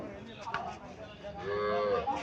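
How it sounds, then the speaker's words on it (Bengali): A local Bangladeshi desi cow on a farm gives one short, nearby moo that rises and falls, with a little background noise from the farm around it. "এখানে আরো একটা গাভি দেখা যাচ্ছে"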